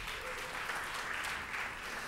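Sustained applause from a crowd at a human rights symposium, a dense even wash of clapping throughout.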